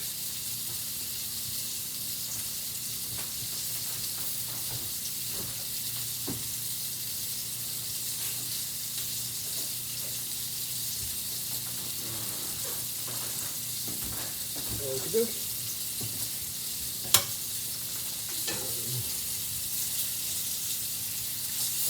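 Salmon sears in a frying pan with a constant broad sizzle throughout, a few soft clinks and utensil knocks here and there, and one sharp tap near the end.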